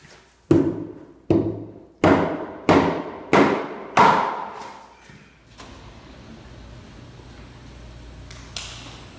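Six heavy hammer blows strike rotted wood at a steady pace, each a sharp, loud crack with a short decaying tail, followed by a quieter stretch of muffled rustling and one light knock near the end.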